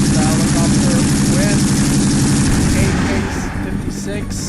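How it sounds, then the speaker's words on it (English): A helicopter roars in close and loud, a dense continuous engine and rotor wash with tones and a possible burst of gunfire mixed in, easing slightly toward the end. "Here comes the helicopter"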